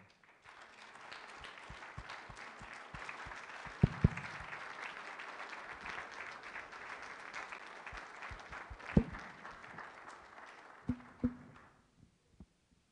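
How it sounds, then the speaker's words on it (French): A conference audience applauds at a plenary endnote lecture: steady sustained clapping from a large crowd for about eleven seconds, with a few louder individual claps standing out before it fades away. "like everybody to join me again in applauding that presentation"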